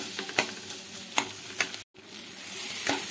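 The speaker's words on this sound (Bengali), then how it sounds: "এবার টমেটোটা দিয়েও আমি একদম লো ফ্লেমে মশলাটার সঙ্গে কষিয়ে নেব" Tomato and spice paste sautéing on a low flame, a soft continuous sizzle broken by several sharp scraping stirs of a spoon, with a brief silent gap midway.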